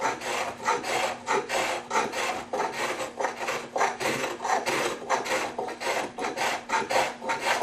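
A rasp files wood with quick, rhythmic back-and-forth strokes, about three rough scrapes per second. The strokes are close and loud and continue without a break, with no talking.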